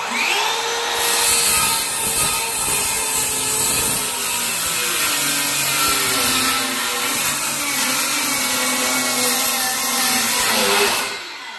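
Power saw cutting wood to shorten a wall in a farmhouse, a loud continuous whining buzz that holds steady for about ten seconds before cutting off, close by with no talking.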